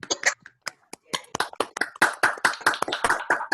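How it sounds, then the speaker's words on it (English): Scattered, uneven hand claps from a few people unmuting on an online call after a talk, sharp separate claps overlapping irregularly with gaps between them. "If you'd like to unmute and clap,"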